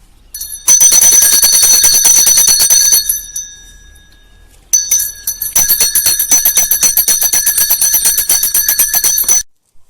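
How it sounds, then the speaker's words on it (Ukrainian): An electric school bell rings loudly at a last-bell graduation ceremony, a rapid continuous metallic trill. It stops for a moment, then rings again for several more seconds. No voices are heard. "Вслухайтесь, малиновий передзвін. Для вас, випускники, прощальний він."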